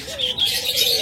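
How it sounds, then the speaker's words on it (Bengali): Budgerigars, Australian doves and diamond doves call together at a bird breeding farm, a busy mix of bright chirps and soft warbling tones overlapping continuously at close range. "যে পাখিগুলো থাকে তা হলো বাজরিগার, অস্ট্রেলিয়ান ঘুঘু, ডায়মন্ড ডাব সহ"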